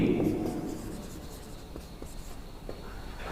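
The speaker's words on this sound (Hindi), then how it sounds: "सबसे पहले हम लोग बिल्कुल एकदम इजी वाला नोटिस लिखेंगे" Pen or marker scratching out a notice on a board, soft irregular strokes at close range with brief pauses, faint and steady under quiet room noise.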